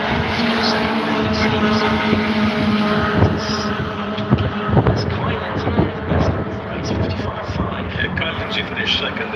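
Honda Civic Type R race cars on a circuit, their engines roaring and droning continuously at close range under steady commentary.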